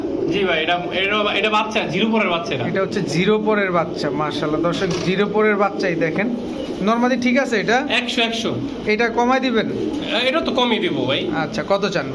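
Black Danish pigeons at a breeding farm cooing repeatedly in close, overlapping rising-and-falling calls, a busy flock of coos throughout with some talk mixed in.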